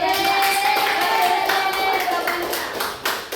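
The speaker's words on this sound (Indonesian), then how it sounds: "terima kasih sudah tepuk tangan dulu" Third-grade children clap their hands in a classroom, a burst of quick, bright clapping nearby that thins out toward the end.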